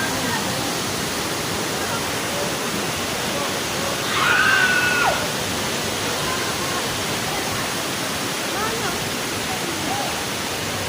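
Mountain water runs continuously in a loud, steady broadband rush like a waterfall or fast stream, filling the whole stretch, with a faint brief voice-like sound partway through.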